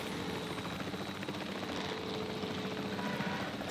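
A helicopter in the video game Jurassic World Evolution 3 gives off a steady, continuous rotor-and-engine drone, moderately quiet and unbroken, with no voices.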